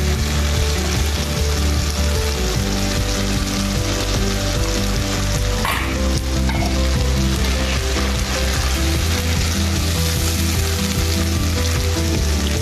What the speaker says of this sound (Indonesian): Aduk dulu biar rata.